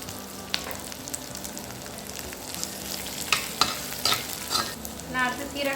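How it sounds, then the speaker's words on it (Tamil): Black pepper, cumin, fennel and coriander fry with half-cooked onion in a pan for Chettinad crab masala, a continuous close sizzle with irregular stirring scrapes and clinks growing busier toward the end. "இதே நல்லா வதக்கிக்கோங்க"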